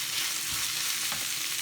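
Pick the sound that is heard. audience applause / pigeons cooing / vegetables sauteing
vegetables sauteing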